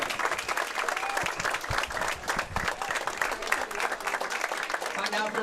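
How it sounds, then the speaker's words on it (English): Sustained applause from a crowd for the singles finalists at a state high school bowling championship, dense steady clapping throughout with voices and an announcer talking over it. "let's get a round of applause for our singles finalists this morning."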